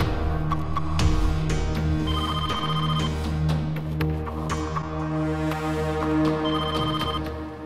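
Telephone ringing on an outgoing call in a drama scene, a repeating electronic ring tone heard under steady background music, moderately loud and continuous.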